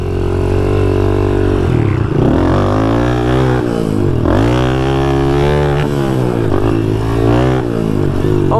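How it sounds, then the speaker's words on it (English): A JR80 pit bike fitted with a big bore kit revs loud and close, its engine note rising and falling through throttle blips and gear changes during a ride, with no pause. "First lap on Mo's bike"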